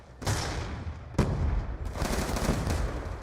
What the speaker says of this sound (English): I'm doing a lot of tap shotting today